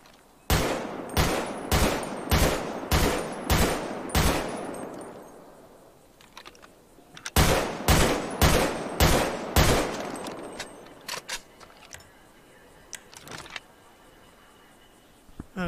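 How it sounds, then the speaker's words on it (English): A modded carbine rifle in the FiveM game fires in two long bursts of rapid, evenly spaced loud shots, each burst about three to four seconds, with a pause and a few faint clicks between them. "now this is gonna be the carbine rifle, so you guys can listen to this one"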